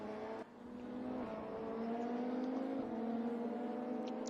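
A DTM race car in RaceRoom leaving the pits at Hockenheim, its engine note rising in a steady drone as it accelerates away, with a brief dip near the start. Moderately quiet, no voices.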